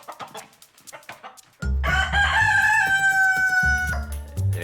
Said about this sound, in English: I couldn't get up, so I got a rooster.